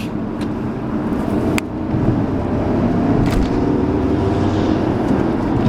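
A Mercedes-Benz S550 Sport's 381-horsepower engine with 7-speed automatic rising in a steady, loud roar from inside the cabin under hard acceleration, droning on with road noise and a brief shift in pitch.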